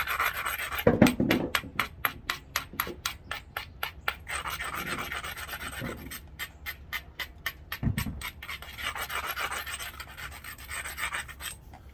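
Stone rubbed against the edge of a flint biscuit to grind it round, a rapid series of rhythmic rasping scrapes, close and steady, with brief pauses and a few knocks, no speech.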